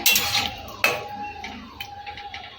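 A metal lid clinks onto a cooking pot of ridge gourd and lentil dumpling curry, one sharp clang followed by faint light rattles in a quiet kitchen.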